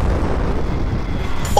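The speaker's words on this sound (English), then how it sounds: "It threw a nade at you." A grenade goes off in the video game Content Warning, a loud low rumbling blast filling the whole moment, close and heavy, with a short voice at the very end.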